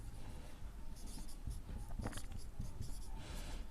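A pen scratching out an equation by hand on paper during a maths lesson, soft irregular strokes and taps, quiet and close, with no speech over it.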